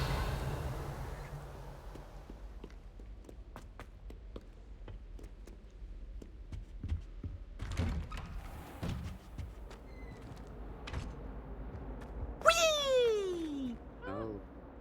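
A cat in the video game Hogwarts Legacy lets out one brief descending meow late on, loud and close after a long stretch of faint clicks, thuds and ambient game noise.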